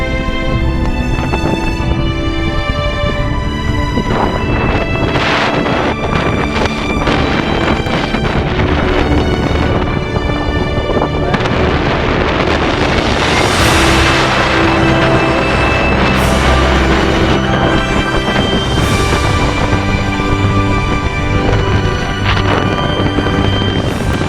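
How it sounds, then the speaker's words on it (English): Strong wind blows across a cliffside outside a pilgrims' hut, a dense, continuous roar that buffets the microphone, with gusts swelling and fading and no voices. "the wind is blowing you right off the cliff"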